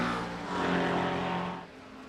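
LMP2 prototype race cars battle for second place at Road America in a sim racing endurance race, their engines droning loudly together, swelling briefly as a car passes and then fading away.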